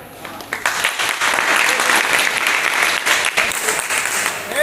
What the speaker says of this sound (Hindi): थोड़ा एक दूसरे की ताली बजा लो थोड़ा